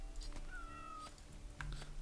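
In the RimWorld video game, a cat gives a short, thin meow, then a second brief one, both faint and set over a quiet, steady game background with no speech.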